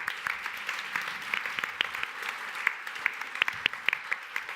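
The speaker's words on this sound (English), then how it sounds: "So please join me in giving a massive round of applause to the 6 debaters." A conference audience applauds six debaters at a freelancer-economy debate, with dense, steady clapping and sharper individual claps standing out, moderately close throughout.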